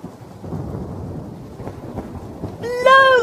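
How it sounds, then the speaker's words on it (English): A thunderstorm with rain, sound effect: a low rumble of thunder under steady rain, then a sharp, bright crack near the end, with a faint voice-like harmonic tone over the final moments. "A thunderstorm!"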